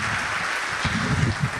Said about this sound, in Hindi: पुरजोर तालियों से इस्तकबाल करें।